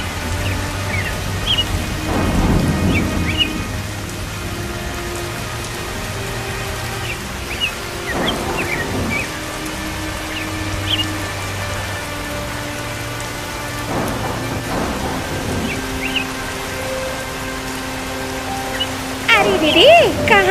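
Heavy cartoon rain pours continuously, loud and hissing, with several low thunder rumbles rolling in throughout and sustained tonal music notes layered underneath.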